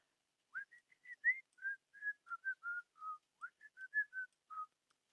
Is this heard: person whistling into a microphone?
yes